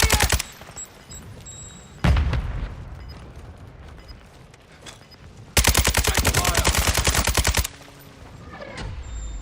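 Video-game gunfire crashes out in loud bursts: a short volley at the start, another blast around two seconds, then a long rapid machine-gun stream of evenly spaced shots before it cuts off into quieter background noise.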